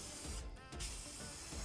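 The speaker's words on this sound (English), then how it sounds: "Be sure to shake your can well and apply your coat of spray paint." Black spray paint hisses steadily from a well-shaken aerosol can while a heavy flocking coat goes onto a woodworking project, with one brief pause in the spray before it resumes, close and continuous.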